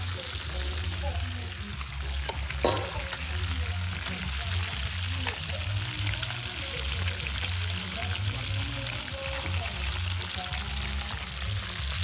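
Lobster frying in hot oil gives a loud, steady, close sizzle and crackle that runs without a break, with a brief knock partway through.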